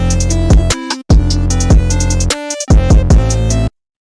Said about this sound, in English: Would you rather have an 808 that sounds like this,